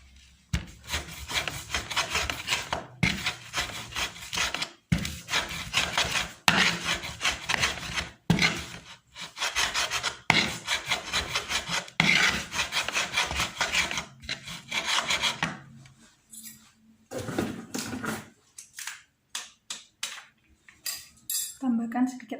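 Plant material for a natural acid-base indicator is ground by hand, giving repeated rough rasping and scraping strokes in steady bursts. The strokes are loud and close, then thin out into a few scattered scrapes near the end.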